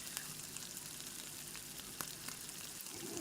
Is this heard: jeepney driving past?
no